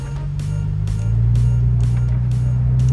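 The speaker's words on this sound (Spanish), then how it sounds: "No sé si se escuche el escape del carro." A sports car's exhaust drones steadily with the windows down, a low continuous engine rumble that swells slightly after the first second and holds, with faint cabin noise above.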